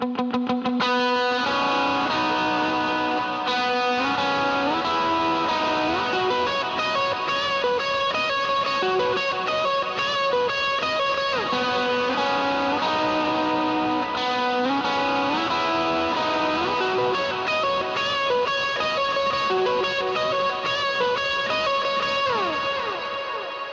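An electric guitar with overdrive, a quarter-note and dotted-eighth delay and bloom reverb plays the intro to a song, sustained picked notes repeating and ringing out in shimmering echoes, loud and continuous with no talking.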